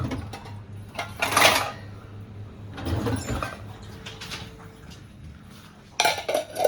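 A lid set onto a metal pot of cooked moong masoor dal in a home kitchen: a few clattering metallic clinks and scrapes, sharp knocks near the start and middle and a final rattle at the end, close by.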